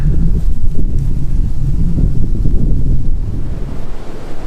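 Heavy, low rumbling wind buffeting the microphone outdoors on a hike, loud and continuous throughout with gusty fluctuations.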